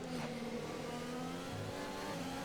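An F1 car engine in the F1 2020 racing game runs at full throttle on the Hanoi street circuit, a steady loud high-pitched whine held throughout without any voices.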